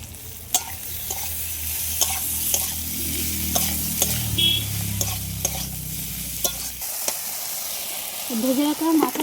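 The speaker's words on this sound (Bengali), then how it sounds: "ভেজে রাখা মাছের মাথাটাও আলু আর বেগুনের সাথে ভালো করে কষিয়ে নেবো একটু" Pre-fried fish head is sautéed with potato and eggplant in a pan: a constant frying sizzle with repeated sharp spoon-against-pan scrapes and clinks. A voice briefly joins near the end.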